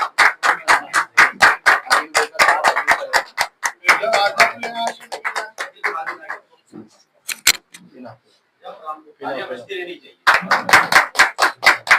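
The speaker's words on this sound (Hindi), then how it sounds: "सब लोग अकील भाई के लिए तालियां बजाओ" A crowd at a Samajwadi Party gathering in Aurangabad claps in sharp, rapid bursts. Loud applause opens the clip, gives way to scattered claps mixed with murmuring voices, then resumes strongly at the end.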